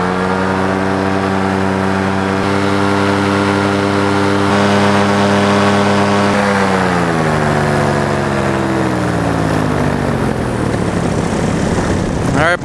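Paramotor engine running loud and steady close by, its pitch then winding down as it cuts off and coasts to a stop near the end.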